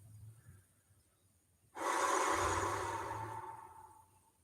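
A long, slow exhale during a guided meditation, a soft airy rush lasting about two seconds that swells then fades, close and alone after a quiet pause.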